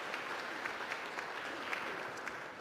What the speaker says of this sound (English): give these Knights a tremendous round of applause